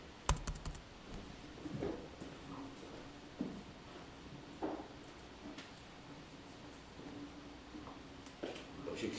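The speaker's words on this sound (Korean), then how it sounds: "역시 키보드는 이런 키보드가 좋죠." Someone types on a computer keyboard in a quiet room, producing soft, irregular clusters of key clicks with short gaps between them.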